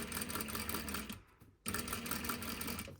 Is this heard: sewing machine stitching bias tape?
yes